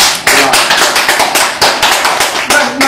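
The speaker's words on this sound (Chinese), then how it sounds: "掌声" A lecture audience applauds, a loud burst of dense, uneven hand claps with fluctuating intensity throughout.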